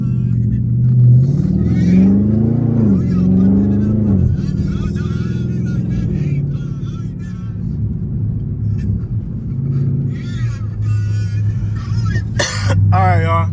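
A car engine drops through gears on a drive to a tire shop. A steady engine rumble from inside the cabin shifts pitch as it downshifts, with voices talking over it near the end.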